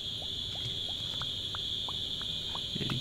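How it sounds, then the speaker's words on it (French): Crickets chirp loudly in a video game scene, as a steady high trill runs throughout under a row of short, evenly spaced chirps or calls. "Il y a des grillons bien forts en tout cas."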